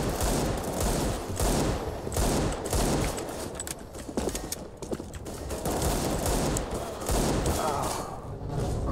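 Rapid bursts of gunfire from a Counter-Strike: Global Offensive team deathmatch, a dense, loud barrage of overlapping shots running throughout with barely a pause, layered with distant game noise.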